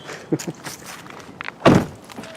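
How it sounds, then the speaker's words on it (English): A BMW i3's rear-hinged door swings shut with a solid thunk, preceded by a few light knocks and shuffling movements nearby. "And just gotta love these suicide doors."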